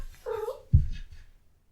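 A pet cat gives a short vocal cry followed by a lower grunting note, close and fairly loud, with no talking over it.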